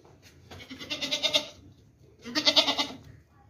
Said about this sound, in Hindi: ये बकरी देखे, बहुत ज़बरदस्त बकरी है।